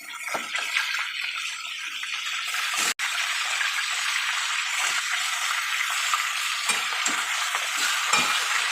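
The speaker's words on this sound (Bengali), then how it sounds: "মাছের মাথাটা ভালো করে ভাজা" Fish heads frying in hot oil in a pan, a steady loud sizzle with occasional stirring and scraping knocks, close and continuous with no talk.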